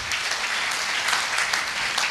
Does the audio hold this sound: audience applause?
yes